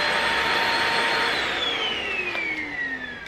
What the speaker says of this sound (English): So you just use this to vacuum your home.